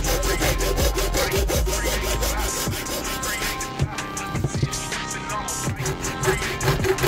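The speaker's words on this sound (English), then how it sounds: "I kind of have a big hacksaw, metal hacksaw here for this." Large metal hacksaw cutting through a paintball marker barrel, a loud, steady back-and-forth rasping stroke rhythm close up, continuing for several seconds with brief pauses and clunks between strokes.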